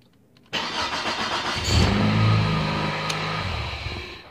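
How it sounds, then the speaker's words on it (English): A car engine starting up nearby after a brief quiet moment, with the starter catching and the engine rising into a steady running hum, no talk. "the car starts right up"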